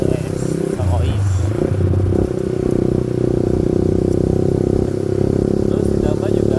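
A motorcycle rides steadily along with a continuous low engine drone and road rumble, with some clatter and wind, heard throughout under someone talking while filming with a stabilized Samsung S22 phone.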